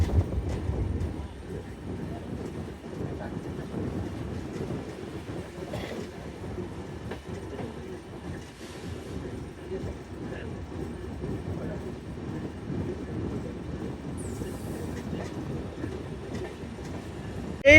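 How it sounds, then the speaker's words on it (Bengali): Modhumoti Express train bound for Rajshahi rolls into platform 2 at Mawa railway station, a steady rumble of wheels and carriages rattling on for many seconds, with a faint high squeal near the end. "আমাদের রাজশাহী অভিমুখী মধুমতি এক্সপ্রেস ট্রেনটি এখন মাওয়া রেল স্টেশনের 2 নং প্ল্যাটফর্মে প্রবেশ করছে।"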